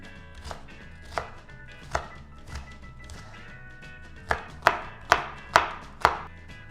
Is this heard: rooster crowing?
no